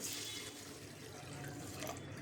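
Water runs and splashes into a container of moong dal, a soft steady pour with faint dripping, fairly quiet.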